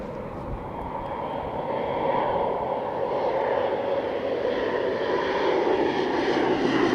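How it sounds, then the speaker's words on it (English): Airplane flying overhead, a steady droning engine roar that swells slightly and holds at moderate loudness, heard alone without talk. "Oh, mandatory plane break."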